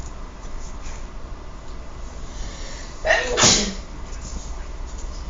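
One short sneeze bursts out close by against a quiet room background, a single sharp burst with no talk around it.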